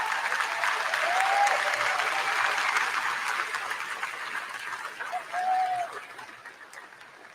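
Audience applause at a VFW National Convention honoring a Vietnam veteran: sustained, dense clapping from a large crowd that stays fairly loud throughout, with a brief swell near the end.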